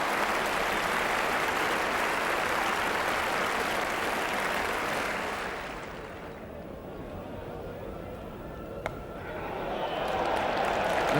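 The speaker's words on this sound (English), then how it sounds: "And the warm applause from a Headingley crowd." A Headingley cricket crowd at a Test match claps warmly and steadily for a batsman reaching 150, a broad wash of applause that fades after about six seconds and then swells again.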